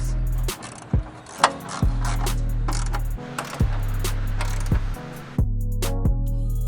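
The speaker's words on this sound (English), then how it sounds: "Using a 10mm socket, you're going to want to place all 3 screws in the bottom of your airbox." A 10mm socket ratchet clicks in bursts while fastening screws into the bottom of a Grand Prix cold air intake airbox, close and loud, with short pauses between runs of rapid pawl clicks.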